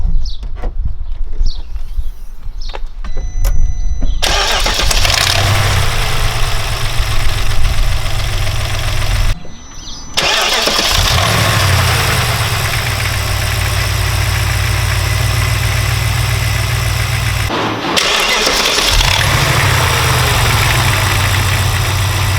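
A BMW N62 V8 engine with worn timing chain cranks and starts three times, each run settling into a loud steady idle with a rattling, ticking clatter, separated by brief cutoffs.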